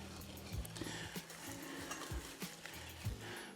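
Char siu pork marinade ingredients are stirred in a bowl, giving faint, soft repeated taps and scrapes of a utensil in a quiet, rhythmic pattern with no voices.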